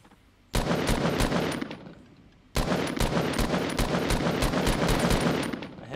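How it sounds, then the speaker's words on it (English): Rapid SMG gunfire in a Fortnite Battle Royale firefight, loud and near: one burst of sharp repeated shots, a short lull, then a longer sustained string of rapid shots running to the end. "We had an SMG battle, it was epic."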